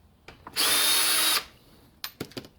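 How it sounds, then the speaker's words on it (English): A power drill whirs steadily for under a second at close range, followed by a few sharp clicks and knocks. "I'm going to take this out with the drill"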